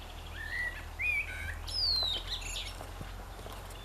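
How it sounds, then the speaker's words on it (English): Outdoor birdsong near gravel and a telegraph pole: a few short rising whistled chirps and tweets, fairly faint and clear over quiet background noise, with no one speaking. "Listening to those birdies sing."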